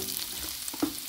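Garlic sautéing in a pan while daikon is being cooked, a soft steady sizzle with a faint stir and a small clink near the end, brief and close.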